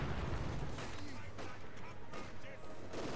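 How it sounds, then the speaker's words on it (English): Explosions from a tank battle with Tigers and IS-2s in a video game boom in rapid succession, mixed with crackling gunfire, loud and continuous throughout. "Nice explosions. I like the explosions."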